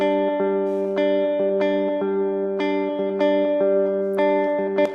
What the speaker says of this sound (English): you're going to want to start with some super generic pop guitar thing that sounds like this.